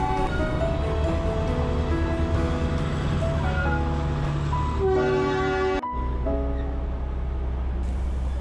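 Darjeeling Himalayan Railway train running through monsoon mist on its climb from NJP, sustained horn tones and whistle-like toots over the rumble of the moving train, loud and near, with a sharp cutoff and lighter rumble afterward.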